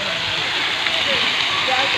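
Water spraying at Hadabandha pond in Kendujhar, a steady broadband hiss like falling rain that runs continuously and fairly loud throughout, with no clear breaks.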